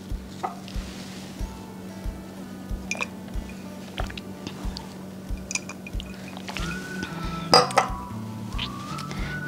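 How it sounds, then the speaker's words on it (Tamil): Water is poured into a mango drink and ice cubes go in with light clinks against the glass. A steady mechanical hum runs underneath, and a few sharper clinks and splashes come near the end. No one talks. "நான் கொஞ்சம் தண்ணி ஊற்றிட்டு ஐஸ் க்யூப் போட்டுக்கிறேன். ஜஸ்ட் ஒரு கலக்கிட்டு"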